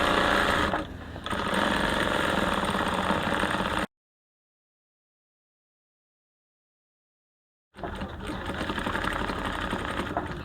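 A sewing machine runs a steady mechanical whir while stitching the side seam of a kaftan in Aso-oke fabric, backstitching near the slit notch; the motor runs loud for a few seconds, falls silent, then starts up again.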